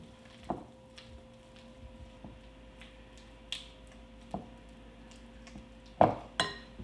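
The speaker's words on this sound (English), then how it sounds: "Add the rest of my corn. Give it a quick stir." A spoon stirs a chorizo and corn filling in a pan, giving a handful of sparse, light clinks and taps against the metal with quiet gaps between them.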